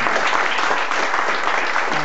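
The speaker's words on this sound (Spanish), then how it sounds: "un aplauso" Dense, steady applause from a live music concert audience fills the whole moment, a crowd clapping loudly and evenly without letting up.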